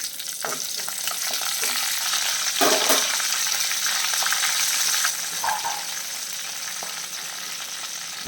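Mustard seeds, fenugreek and curry leaves fry in a hot pan, giving a steady, close sizzle with crackling bursts and a few stirring scrapes, heard alone without talk.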